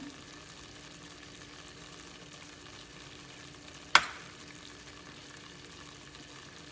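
An adadiya sweet mixture with edible gum, chopped cashews and almonds sizzles gently in a pan as it is stirred; a soft, even frying hiss is broken by a single sharp knock of a utensil partway through.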